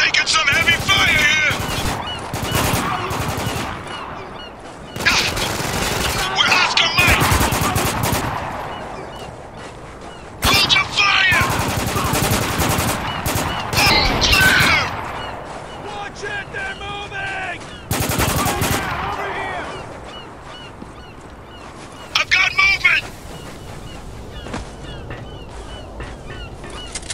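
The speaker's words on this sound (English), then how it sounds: "Taking some heavy fire here!" Heavy gunfire in the video game Spec Ops: The Line, with repeated bursts of automatic fire and sharp shots coming in loud clusters between shouted voices.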